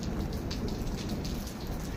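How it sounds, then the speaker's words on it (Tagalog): Heavy hail and rain fall in a dense, steady roar, close and constant, with ice stones pelting surfaces throughout. "umuulan ng yelo."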